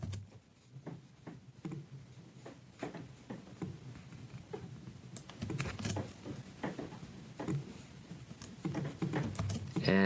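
Close, irregular clicking of a computer keyboard as someone types steadily, with bursts of keystrokes and brief pauses over about ten seconds, no talking.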